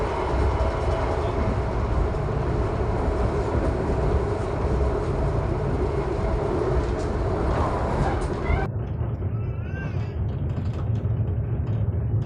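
A local passenger train on the Malang to Surabaya line rumbles along in a steady, loud, continuous roar with faint rhythmic rattling, the tone shifting abruptly near the end.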